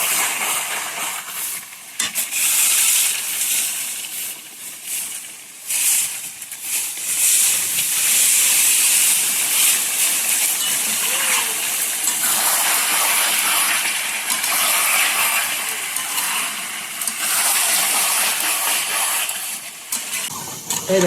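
Country chicken sizzles and hisses steadily in a pan of oil after water is added, a loud continuous frying crackle with bursts of steam and occasional stirring, no voices.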